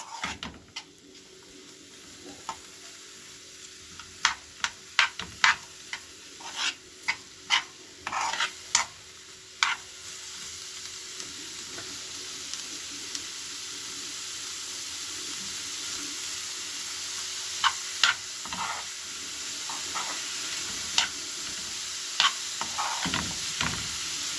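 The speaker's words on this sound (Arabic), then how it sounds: "غادي نبقاو نحركو فيها حتى تهبط لنا هاد البصله هادي وهاد الفلفله" Onion and pepper sizzling in a pot while a spoon stirs them, giving a steady frying hiss broken by repeated scraping clicks against the pot over about twenty seconds.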